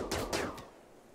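A few sharp gunshot bursts from RimWorld Alpha 14 combat on PC, three quick cracks in about half a second, close and fairly loud, fading into a short decaying tail with no talk.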